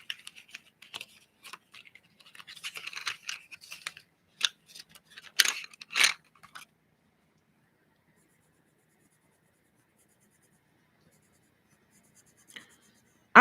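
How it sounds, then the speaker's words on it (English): Pentel Arts colored pencils scratch softly across paper in quick, uneven strokes for several seconds, followed by near silence with one faint stroke near the end. "these color pencils color really, really nicely"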